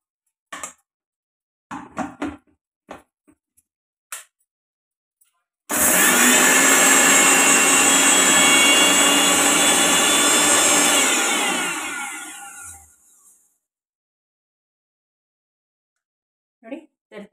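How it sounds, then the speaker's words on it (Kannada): A kitchen mixer grinder whirs loudly for about seven seconds while grinding dry ragi and green gram with no water, then winds down and stops. Short clatters and knocks come before and after the run. "ಇದನ್ನು ಮಿಕ್ಸಿಗೆ ಹಾಕ್ಕೊಂಡ್ಬಿಡ್ತೀನಿ, ನೀರು ಹಾಕಲ್ಲ, ಹಾಗೆ ಮಿಕ್ಸಿಗೆ ಹಾಕ್ಕೊಡ್ತೀನಿ"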